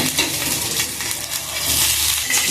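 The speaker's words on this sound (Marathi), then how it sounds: "आता आपण मिरचीला पलटी करून घेऊया" Stuffed green chillies sizzle steadily in oil in a frying pan while they are turned over. The frying hiss is close and even throughout.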